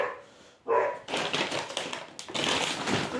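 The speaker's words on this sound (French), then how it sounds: "vu comment elle jappe" A small dog yaps in quick, sharp bursts close by, the barks coming in a busy cluster after a brief quiet start, with faint tapping and rustling mixed in.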